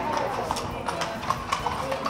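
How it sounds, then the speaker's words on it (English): Horses' hooves clip-clop on stone at Petra, Jordan, a steady uneven rhythm of several animals passing nearby, under the murmur of people talking at the tourist site. "So there are horses around here."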